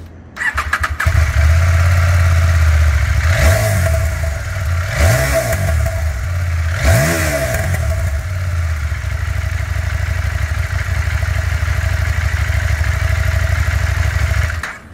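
Exhaust of a 2022 CFMOTO 800MT motorcycle, starting up and settling into a loud, steady idle close by, broken by three sharp revs that rise and fall before the idle returns.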